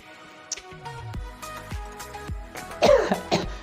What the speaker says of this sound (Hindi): फिर से खांसी आ गई।